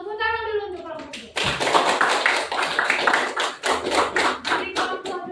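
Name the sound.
classroom applause for group 2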